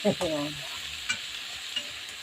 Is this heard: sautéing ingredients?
yes